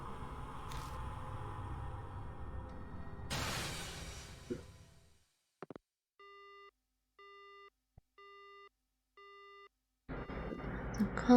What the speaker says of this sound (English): The call disconnects.